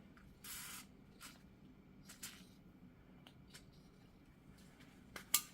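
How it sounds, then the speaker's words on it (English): Short hissing bursts of WD-40 lubricant sprayed onto a seized wheel bearing hub, a few faint spurts separated by pauses, with soft handling clicks and a sharper knock near the end. "So we are going to spray some WD."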